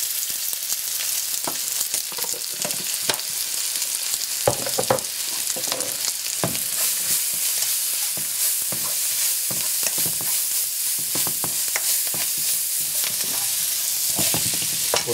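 Potato pieces stirred in a frying pan with turmeric and chili powder, a steady broadband sizzle punctuated by repeated scraping and clinking strokes of the spoon throughout, close and fairly loud with no talk.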